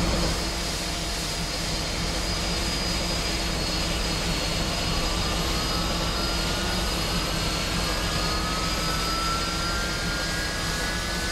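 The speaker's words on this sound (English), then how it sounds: "starting engine number 2" An MD-11 jet engine spools up in the X-Plane 12 flight simulator as a steady, loud whine and roar with rising tonal lines, continuous throughout with no talking.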